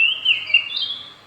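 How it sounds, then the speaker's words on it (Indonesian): A bird chirps in short, clear, high tweets that run together over about a second. It is close and fairly loud, with no voices. "Ya, burungnya tuh."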